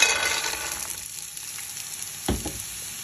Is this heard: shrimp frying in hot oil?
yes